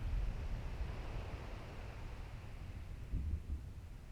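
Rushing storm wind at sea in the video game Kingdom Hearts Final Mix, with a low rumbling roar, steady and broad, swelling slightly toward the end.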